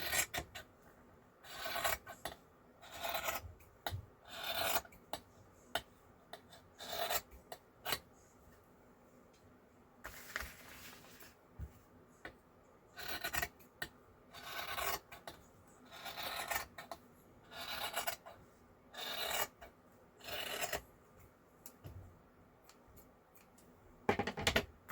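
Scissors cutting paper for a floral journal cover, heard as a series of short, close snipping and rasping strokes in irregular bursts with quiet pauses between them.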